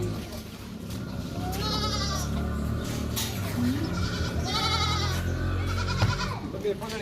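Goats and kids bleat repeatedly on a goat farm, several overlapping calls close by over a steady background of farm noise and people talking.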